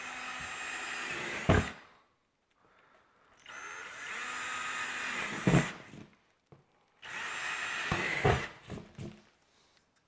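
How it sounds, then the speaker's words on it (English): A power drill drills pilot holes in a plastic lid in three separate bursts with quiet pauses between them, close by, the bit grinding through material at the end of each run. "we're gonna go ahead and drill a pilot hole in here a couple places"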